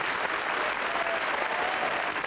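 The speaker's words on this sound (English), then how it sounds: "A warm round of applause for playing a good game of Cluedo." A studio audience at a Cluedo game show applauds in a dense, steady round of clapping lasting a couple of seconds.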